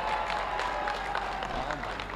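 Audience at a closing ceremony of a sports festival in Bansgaon rises to welcome a dignitary with sustained applause, a steady crowd wash of clapping with some background murmur throughout.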